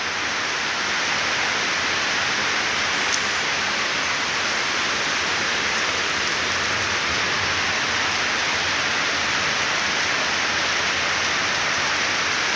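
Heavy rain pouring down outdoors near a garden, a dense, steady, loud hiss of drops that never lets up, with no voices.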